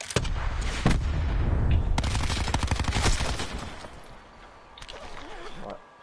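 Rapid bursts of gunfire in a zombie shooter game, loud and close for the first few seconds, then fading to scattered shots, with voices talking over the firing.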